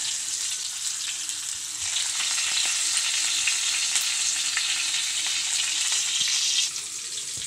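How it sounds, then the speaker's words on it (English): Catfish frying in oil for a crispy Filipino dish makes a steady, dense sizzle and crackle that runs unbroken throughout, close and fairly loud. "this time we have the crispy fried catfish."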